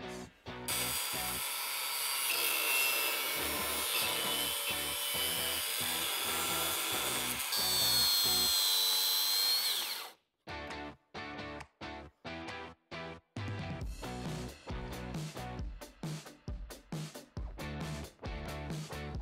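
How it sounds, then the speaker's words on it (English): A cutoff wheel cuts tack welds off a rear bumper mount on a Toyota Sequoia. A continuous loud high-pitched grinding whine runs for about ten seconds, then gives way to a rapid series of short grinding bursts. "use this cutoff wheel to kind of get back there and make our cuts"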